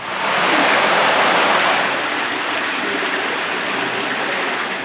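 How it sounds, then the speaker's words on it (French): An underground river flows through a cave, a loud continuous rushing roar of water that stays steady throughout with no voices. "quand on est rendu au plus bas, là, on peut y voir la rivière souterraine qu'on a été capable de naviguer"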